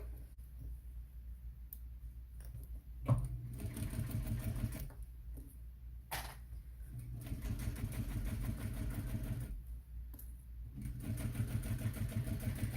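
A sewing machine basting a zipper seam on a crossbody bag, running in steady close whirring stretches broken by brief pauses and a couple of clicks, with no talk over it.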